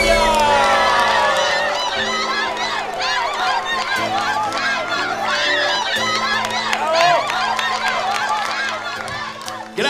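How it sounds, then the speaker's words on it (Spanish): A studio audience at a televised singing contest cheers and shouts loudly throughout, many overlapping voices in a dense roar that stays fairly steady and eases slightly toward the end. "Gracias, gracias por ese caluroso aplauso"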